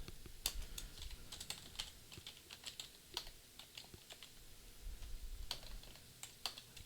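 Clicky keys on a computer keyboard typed in irregular bursts as a Linux command is entered on an Ubuntu server, close and fairly quiet, with no voice.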